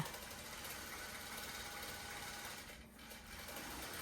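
A sewing machine stitches fabric for quilt binding, its fast needle chatter a continuous mechanical whir, with a brief dip near the end before resuming.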